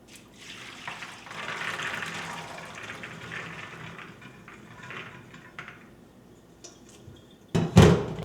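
Running water pours and splashes over pink beans in a colander, a soft continuous rush that swells and fades, ending in a louder clatter of the metal colander.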